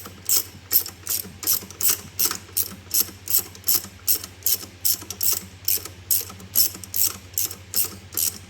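A ratchet on a Ford Focus mk2 gearbox mount bolt clicks steadily through repeated quick strokes, each a crisp burst of pawl clicks, loud and close with no talking.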